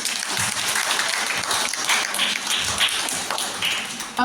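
Audience applause at a Teachers Day program at a school, a dense steady clapping from a crowd lasting several seconds with little talk.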